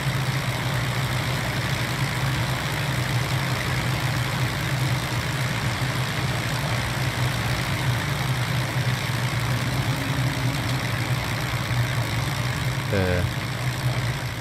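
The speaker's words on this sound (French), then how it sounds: "Verrez-vous le moteur droit a dératé là?" Steady low drone of a Piper PA30 twin's engines in a flight simulator, with the right engine misfiring, continuous and loud throughout with a brief tonal chirp near the end.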